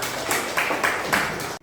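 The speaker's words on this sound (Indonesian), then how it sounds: "Tolong tepuk tangannya untuk Lester" A classroom of students claps for a classmate after a biology lesson presentation. The claps come as a steady, rhythmic patter of close, moderately loud hand claps for about one and a half seconds, then stop abruptly.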